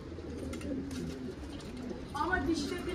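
Domestic pigeons coo in a low, soft, rolling murmur in a loft, repeated throaty calls under faint background, with a brief brighter flutter or chirp near the end; the coos are fairly quiet and close.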